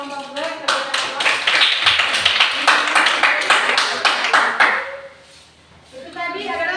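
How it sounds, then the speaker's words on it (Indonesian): Applause for a group presentation in a classroom, a burst of rapid clapping from several people lasting about five seconds, then fading to a pause before voices resume. "Kita berikan aplaus"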